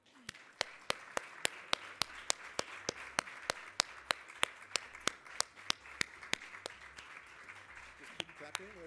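Sparse, evenly spaced claps from an audience at a 2014 business leaders awards ceremony, greeting the Finance Minister of the Year winner. The sharp claps come in a steady rhythm, faint and distant over a low room murmur.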